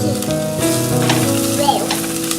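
Chopped tomato sizzles steadily in a hot pan while being stirred for kanda pohe, with a continuous close frying hiss, occasional scraping stirs, and faint steady tones in the background.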